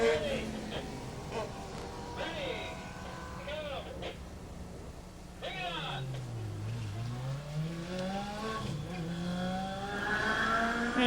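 The Waste Management number 32 race car, driven by Kennedy, takes its victory lap, engine revving and shifting through rising and falling pitch sweeps while a commentator talks over it.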